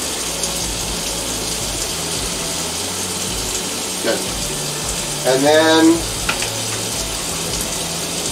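Water runs from a tap into a container in a steady, rushing stream under quiet room noise, with a few brief clatters. Someone speaks a couple of words partway through.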